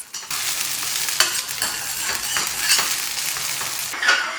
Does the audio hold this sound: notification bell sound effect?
no